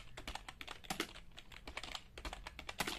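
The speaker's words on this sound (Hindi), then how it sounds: "अब इसी को फिर मीडियम स्पीड में टाइप करना शुरू कर देना" Rapid, fairly soft key clicks as Hindi is typed at medium speed on a computer keyboard, a steady uneven patter of keystrokes with no talking.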